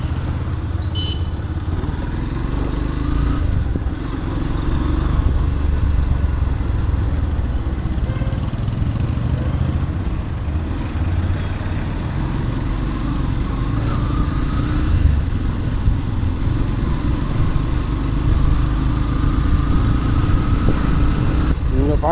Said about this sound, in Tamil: வண்டி ஓட்டி போய் பார்க்க போகிறேன்.